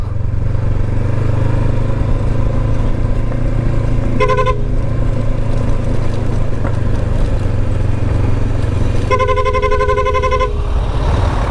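Road construction traffic, dump trucks and mixers, rumbling past a car on a widened coastal road on the Bondoc Peninsula, a loud steady engine drone with two short horn toots.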